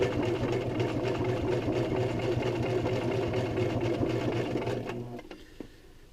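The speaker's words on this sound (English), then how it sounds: "We do the back stitching to keep everything nice and secure." A sewing machine back stitches a fabric mask with a steady mechanical whirr and rapid needle clatter that runs for about five seconds, then winds down into quiet.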